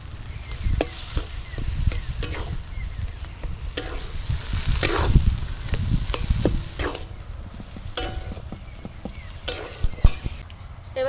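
A beetroot and carrot vegetable chop mixture fries in oil with a steady sizzle, broken by scraping stirs and occasional sharp taps of the utensil against the pan.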